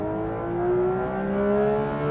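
A Porsche 992 GT3 with a PDK gearbox under acceleration: a loud, steady engine whine rising smoothly in pitch over a couple of seconds, heard close up.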